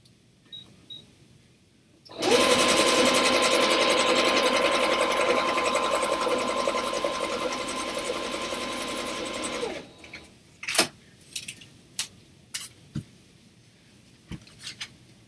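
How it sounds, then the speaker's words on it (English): A sewing machine runs steadily for about eight seconds in a fast, even mechanical stitching whir, then stops, followed by a few sharp clicks and taps. "I'm going to take this over to the sewing machine"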